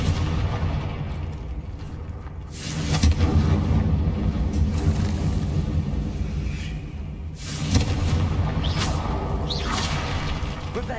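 A Confringo spell explosion in Hogwarts Legacy booms and rumbles in two broad bursts with swooshing tails, set against low catacomb ambience.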